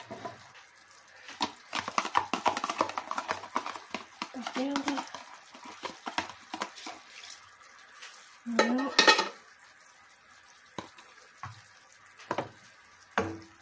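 Purple deadnettle stirred with a little water in a pan, heard as close scraping and clinking strokes with short bursts of utensil noise against the pan, alongside wet shuffling.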